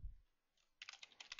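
Typing on a computer keyboard while entering text into a Visual C# Forms Designer field: a quiet pause, then a quick run of close, crisp key clicks over the last part.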